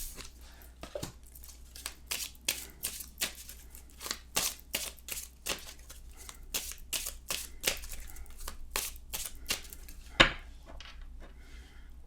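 Tarot cards shuffled and drawn in a steady run of crisp, papery flicks and slaps, close and fairly quiet, with a sharper snap near the end.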